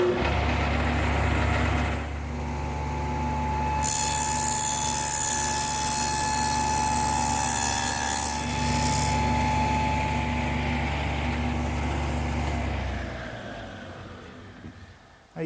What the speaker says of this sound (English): So now I'll just plow out that dado.